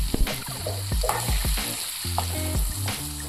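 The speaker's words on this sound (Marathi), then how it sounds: "याला परतून घेऊ" Drumstick vegetable being sautéed in a hot pan with crushed peanuts and chopped coriander, a close, lively sizzle broken by repeated spatula stirs and scrapes, with no voices.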